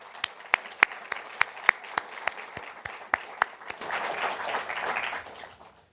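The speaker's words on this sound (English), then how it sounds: "So let's give him another round of applause" An audience at an evening lecture honoring architect Arthur T. Brown, FAIA, begins with a handful of sharp, spaced claps that swell into full, sustained applause before fading out.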